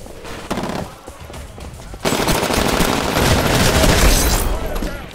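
Rapid automatic gunfire from the shooter game Titanfall on Xbox One, a dense burst of shots starting partway in and continuing loudly to the end, with lighter shots and game noise before it.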